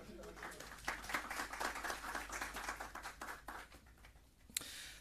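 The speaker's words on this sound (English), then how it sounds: "give yourselves a round of applause" Audience at a UN Day 60th anniversary flag-raising event in Jamaica claps, a scattered crowd applause of moderate, fairly distant hand claps lasting several seconds.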